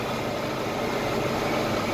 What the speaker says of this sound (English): Yes, I am using the 4450 here. I like this tractor.